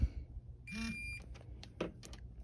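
A single electronic beep with a buzzing vibration from a torque wrench reaching full torque during a Honda CB300R valve adjustment, followed by a few faint clicks, quiet and close.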